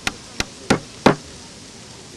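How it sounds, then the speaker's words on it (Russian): Children at an anti-smoking event in a city garden hammer nails into a giant mock cigarette, four sharp knocks spaced about a third of a second apart, each strike slightly louder than the last, then silence. "в доказательство забить гвоздь в импровизированную огромную сигарету"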